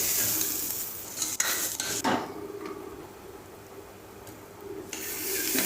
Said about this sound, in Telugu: అంతా సిమ్లో పెట్టుకొని మంచిగా ఫ్రై చేసుకోవాలి